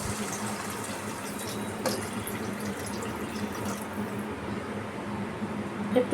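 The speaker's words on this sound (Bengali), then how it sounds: "চিকেন স্টকটা দিয়ে দিচ্ছি" Chicken stock poured into a pan of chicken and potatoes, a soft steady splashing gush under faint kitchen background noise.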